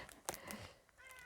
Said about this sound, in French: ce que vous entendez, c'est mon chat